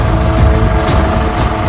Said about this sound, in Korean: 웅장한 필름 릴 소리를 거대 방음 케이스를 씌워 보완했죠.